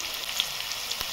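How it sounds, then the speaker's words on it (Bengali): Potatoes frying in oil with a little turmeric and salt, a brief steady sizzle with faint crackles, close and alone without talk. "আলুগুলোকে ভালো করে ভেজে নেবো।"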